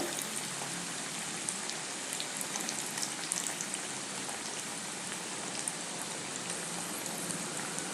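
Coriander vadi (kothimbir vadi) shallow-fries in a pan with a soft, even, rain-like sizzle and fine crackling that holds steady throughout, fairly quiet and with no voices.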